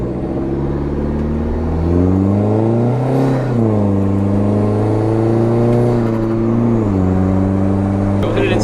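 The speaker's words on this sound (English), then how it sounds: "I call it two-step, but it's just the rev limiter when you go in neutral." Straight-piped SRT-4 PT Cruiser GT engine droning loudly up close, its pitch climbing and dipping as the revs rise and fall and settle, a sustained harmonic roar with voices under it.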